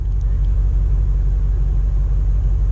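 Deep, continuous exhaust rumble from a 2024 BMW X5 M Competition running in Sport Plus mode, heard from the cabin as a loud, steady low drone with no distinct revs.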